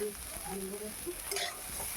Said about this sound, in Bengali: ফুলকপিটাকে তেলের মধ্যে ভাজছি